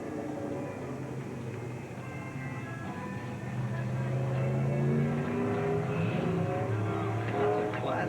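A race car runs its qualifying lap at Willamette Speedway, a continuous engine drone that rises and swells in the second half while an announcer talks over it on the public address.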